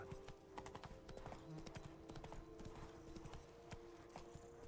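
The hooves of Roach, a horse in the Witcher 3: Blood & Wine video game, clip-clop in a steady, continuous rhythm at a moderate pace, layered over ambient game sound.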